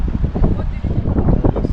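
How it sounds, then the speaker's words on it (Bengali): Strong wind buffets the microphone on a seaside road at Patuartek along the Marine Drive in Cox's Bazar, a steady low roar filling the short stretch with gusty swells. "অনেক বাতাস আছে"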